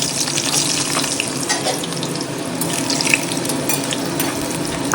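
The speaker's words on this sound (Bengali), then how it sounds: "চাল আর ডালটা ধুয়ে নিয়ে ছেড়ে দিই" Rice and lentils are washed under a running kitchen tap, water pouring steadily and splashing close by for several seconds, with small clinks and stirring in the sink and no voices.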